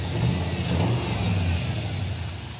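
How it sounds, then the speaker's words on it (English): Misfiring on six cylinders, the V8 of a 1986 Pontiac Firebird Trans Am revs up briefly and then settles, a close, loud, lumpy engine note that fades a little toward the end, with no voices. "The engine doesn't run right. It's running on 6 cylinders."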